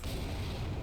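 A twin cannon turret fires in a video game, producing one dense, loud, rumbling blast of broadband noise that fills the whole brief moment without any talk.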